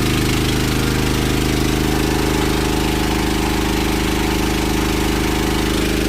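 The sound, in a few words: Honda petrol-powered generator running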